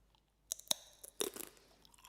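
Close, quiet crunching of a thick crunchy snack made with groundnuts, cumin and chili flakes, several crisp bites and chews in an irregular rhythm with no talking.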